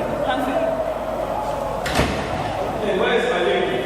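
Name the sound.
door opening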